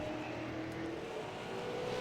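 Super late model race cars racing on an asphalt oval track, a steady distant engine drone with a faint droning whine, heard alone without talk.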